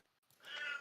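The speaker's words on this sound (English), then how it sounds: "If you hear a cat screaming in the background," Cat meowing loudly in the background indoors, a single drawn-out, strained yowl that swells in the second half and fades at the end, faint and distant overall.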